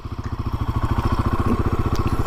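A Royal Enfield Himalayan 450 engine pulls steadily in first gear with a fast, even, pulsing thrum and mechanical clatter, loud and close throughout.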